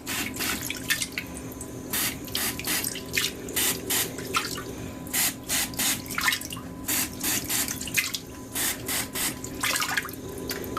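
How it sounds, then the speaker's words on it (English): A handheld cloth diaper sprayer fires water in short, repeated pulses into a toilet, each hiss lasting a fraction of a second, close and sharp, with brief gaps between bursts. "I like the pulse method because I think it uses less water than just pressing the trigger and just spraying away."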